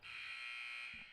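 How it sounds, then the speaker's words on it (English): A basketball game buzzer sounds to start the second half, one loud, steady electronic buzz that holds for about a second and then cuts off. "There was the buzzer right there to start this second half."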